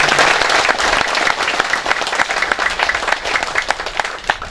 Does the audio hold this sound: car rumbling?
no